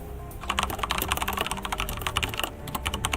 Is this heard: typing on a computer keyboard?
yes